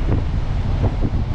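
Strong wind buffets the microphone at a beach, a steady broadband roar with surf rumbling beneath it.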